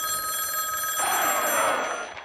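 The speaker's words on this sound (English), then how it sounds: "A pre-dawn phone call awakens the Queen's right-hand man." A telephone bell rings in a pre-dawn call, a steady, bright electronic trill that changes character midway and carries on without pause, close and fairly loud.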